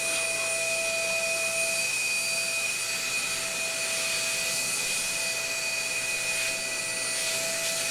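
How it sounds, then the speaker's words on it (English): A vacuum cleaner sucks up metal finishing debris in a steady, continuous whine and rushing roar with high tonal hums, running unbroken and close throughout, with no one speaking. "the specific way that the vacuum cleaner sucks that stuff up"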